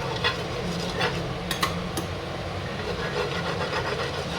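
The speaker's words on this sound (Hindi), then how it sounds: "इस चम्मच की मदद से ये मैं पूरे में ऑयल फैला दूंगी।" A metal spoon scrapes and spreads mustard oil across a cooking pan, giving a steady scraping rasp with a few sharp clinks, fairly loud and close, with no voices.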